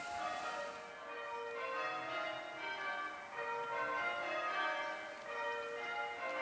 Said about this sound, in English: I'm really pleased to have arrived just as they're having a little bell ringing session.